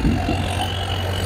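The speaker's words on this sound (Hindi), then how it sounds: "स्पॉटेक 60 पावर मैक्स ट्रैक्टर है ये, और ये लो के टॉप गियर के अंदर चल रहा है" Farmtrac 60 Powermax tractor pulling a harrow through a wet field in low-range top gear, giving a continuous nearby diesel rumble with a deep steady hum and no voices.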